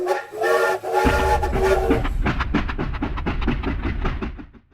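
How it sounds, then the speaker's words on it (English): Cartoon steam train whistle in an animated spoiler-train sequence, a loud sustained multi-tone toot followed by rhythmic chugging puffs of the locomotive, alone without talk. "all aboard the spoiler train. Choo-choo!"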